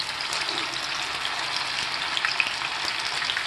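Soya balls frying in hot oil for soya Manchurian as they are added one at a time, with a steady, dense bubbling sizzle and small crackles, no talking.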